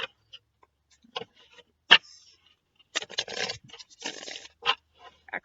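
Close-up riffling and scraping of a Mystic Dreamers tarot deck being shuffled, with scattered short card snaps and a couple of longer rustling bursts, quiet and without talk.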